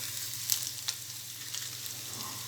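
Garlic cloves frying in hot oil for a tempering: a soft, even sizzle with a few faint crackles, quiet and close, with no voices.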